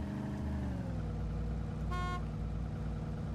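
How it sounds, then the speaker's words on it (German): A car horn honks once in the DayZ video game, a short harmonic toot over a steady engine drone from the in-game vehicle. "Hupe geht? Hupt er auch noch,"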